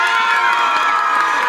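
An audience claps and cheers loudly, with shouts and whoops over dense continuous applause in a brief, close burst.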